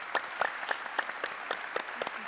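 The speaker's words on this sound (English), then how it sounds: "Let's give them another round of applause." A small conference audience at a debate summit claps for the speakers, a quiet, fairly sparse round of applause with distinct individual claps in a loose rhythm and no talking over it.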